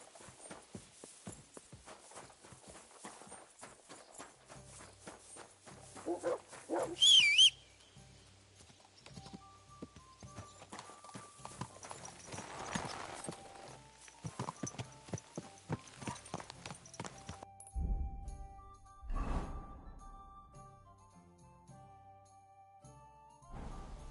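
Steady hoofbeats clip-clop at a walking pace in the video game Kingdom Come: Deliverance II, with a jingle of tack and a brief whinny partway through; no one speaks.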